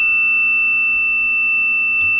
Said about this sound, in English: wrong ID, we get a 5-second alarm